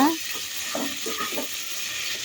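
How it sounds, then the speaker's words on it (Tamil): Onions fry with salt in a pan, a steady broad sizzle with soft scraping stir strokes running through it, close and continuous, with no talking. "உப்பு சேர்த்து நல்லா கிளறி விட்டுக்கோங்க"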